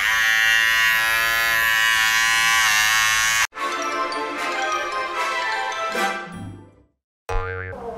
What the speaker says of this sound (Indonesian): sekarang kita tes buat cukur ya. Ini cukur kumis sama jenggot.